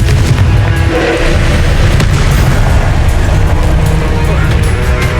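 A Confringo fire spell blasts in Hogwarts Legacy, a loud, dense, continuous booming roar with heavy low rumble and crackling debris filling the whole moment, with a voice mixed in.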